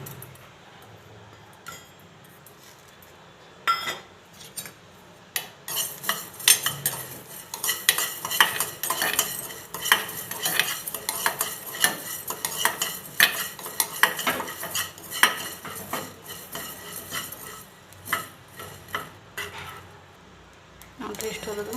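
Coriander seeds and cumin being dry-roasted in a pan on a stove, with a utensil steadily stirring and scraping against the metal in irregular clinks and scrapes, a faint sizzle beneath, and a voice briefly in the background.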